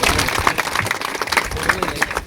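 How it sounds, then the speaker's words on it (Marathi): Scattered applause from a crowd at a village society felicitation ceremony, uneven claps rising and falling over a short stretch. "त्यांचं पण टाळ्या वाजून अभिनंदन करा"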